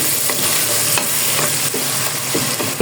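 Onions softening in oil in a pan for biryani, a loud continuous sizzle with periodic scraping stirs breaking through, close up and without any talk.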